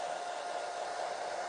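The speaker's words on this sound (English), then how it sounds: "You need to actually use a hair dryer, but on a cool setting, cold setting." A hair dryer on its cool setting blows steadily over a gel printing plate, a continuous close whooshing hum with no breaks.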